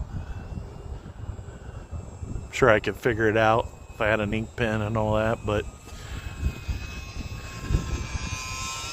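A small E-flite UMX Cessna 182 RC plane buzzes overhead on a Sunday flight, its thin electric motor whine steady and faint in the background while people chat nearby.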